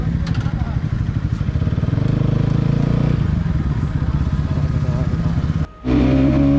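Motorcycles arrive and idle at a group ride meetup point in Bilaspur, a steady loud engine rumble close by that cuts out briefly near the end before restarting.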